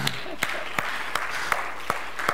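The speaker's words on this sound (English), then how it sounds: "can we just clap for that for a second?" Church audience applause at an anniversary celebration during a sermon: a diffuse bed of clapping punctuated by sharp, evenly spaced claps roughly every third of a second, moderately loud.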